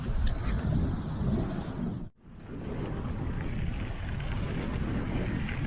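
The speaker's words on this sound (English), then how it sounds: "But man, that wind is intense today. The Meltemi has arrived." Strong Meltemi wind on the Greek island of Schinousa roars steadily into the microphone as loud broadband buffeting, briefly dropping away for a moment before surging back, with no voices.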